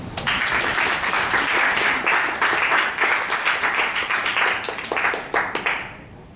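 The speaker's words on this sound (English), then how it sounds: "Please clap for them." A class audience claps for Robin's team at a robot project presentation, steady dense applause from many hands that holds for several seconds, then quickly fades out at the end.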